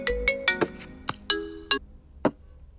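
A phone ringtone plays a bright, plucked melody of separate chiming notes with short decaying tails, clear and close, alone without talk.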